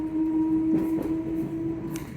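Aboard an Isle of Wight train at Ryde, a steady tonal drone and soft rumble fill a brief moment of running, with faint clicks over the top.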